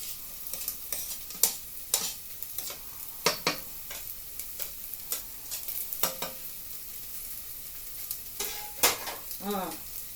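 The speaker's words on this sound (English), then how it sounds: "It's not sizzling too loudly." Onions sizzle softly in a frying pan, a quiet crackle broken by sharp clicks and scrapes of stirring.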